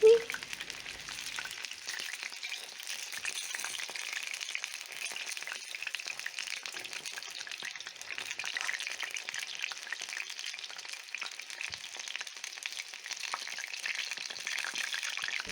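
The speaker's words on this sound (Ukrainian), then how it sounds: "смажу на середньому вогні." Oil sizzles and crackles steadily at close range as chebureks fry over medium heat, a continuous bright frying hiss with small pops throughout, and no one talking.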